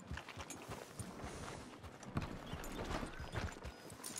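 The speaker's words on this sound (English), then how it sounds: "Get a hold of that horse," Steady clip-clop of horse hooves trotting across hard ground in the video game Red Dead Redemption II, dense and close, with scattered bumps and rustles around them.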